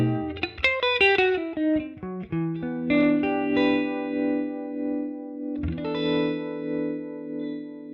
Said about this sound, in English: It's quite a slow tremolo as well.